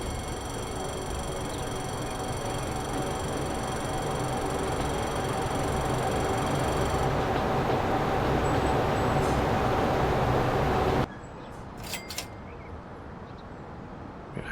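A train rolls along in the Transport Fever 2 simulation game, a steady broad rumble with faint high tones that runs loud and unbroken for about eleven seconds, then drops away to quiet with a few light clicks.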